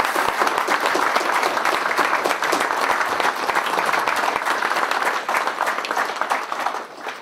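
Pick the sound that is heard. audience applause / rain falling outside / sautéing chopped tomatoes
audience applause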